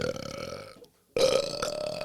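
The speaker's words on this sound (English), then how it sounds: "It was our first in-house, in-studio guest belch." A guest lets out a loud, close, drawn-out belch in a podcast studio, two throaty bursts split by a brief pause.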